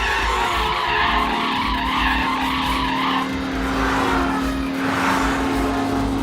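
Cartoon scooter chase with loud, continuous tire skidding and engine whine that hold steady for about six seconds, with a sustained tonal squeal running through the middle and no talking.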